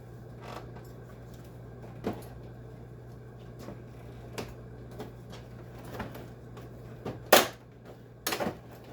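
Plastic parts of a junk dehumidifier creak and click as a piece is worked loose and lifted off during a teardown, with sharper snaps near the end over a low, steady hum.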